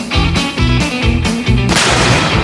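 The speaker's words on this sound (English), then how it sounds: "The explosion from the banger produces a big pressure wave" A series of loud, booming firework banger explosions follows in rapid succession, ending in a sharp, crackling blast, with no talking.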